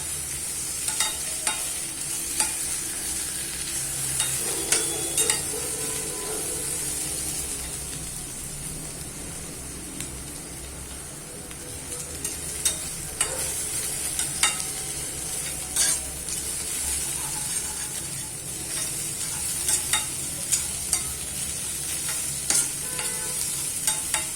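Chopped green chilli frying in oil for street-style anda bhurji, a continuous close sizzle broken by frequent sharp spatula clicks and scrapes against the pan, with no talking.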